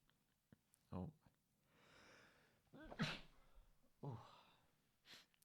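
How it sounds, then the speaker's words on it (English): A quiet room with breathy sounds, followed by a sharp sneeze burst in the middle and a couple of softer breaths and sniffs after. "I just sneezed. I hope that wasn't too loud."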